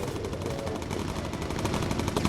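Machine gun fire from the bomber aircraft game Bomber Crew rattles continuously, dense rapid bursts layered into a loud, unbroken clatter.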